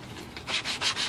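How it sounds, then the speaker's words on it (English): Cedar fence-board bat wings for a Halloween prop are hand-sanded in close rhythmic strokes, four quick rasping passes after a softer start. "is sanding some bat wings"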